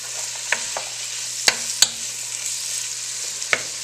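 Aromatics sweating in a pan give off a soft, steady sizzle with a faint hum beneath, broken by a few sharp clicks and taps of a utensil against the pan.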